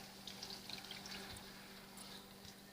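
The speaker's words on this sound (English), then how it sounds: "I get 1 cup of water and I pour it in there" A cup of water is poured into a pot of beans, a faint, steady trickle and splash heard alone and close by.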